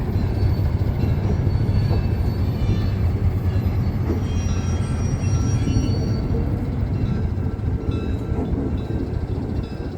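A train rumbles past on the rails at a railway museum with a steady, dense clatter of wheels that stays loud and close for the whole stretch, no voices.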